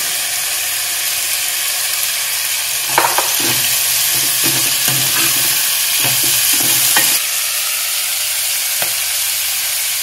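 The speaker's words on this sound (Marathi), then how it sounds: "तेल चांगले ह्याच्यात भाजून घ्यायचे आपल्याला" Turmeric roasting in hot oil for a Marathi ghevda bean curry gives a loud, steady hiss throughout. Stirring adds a run of clicking scrapes against the pan in the middle stretch and one more near the end, with no talking.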